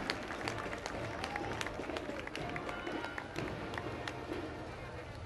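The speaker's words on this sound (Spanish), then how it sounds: "ella es Sandra, fuerte el aplauso para ella" Crowd clapping at a religious pilgrimage procession in Villa Hidalgo, Jalisco, a dense sustained burst of applause with scattered louder claps and faint background voices.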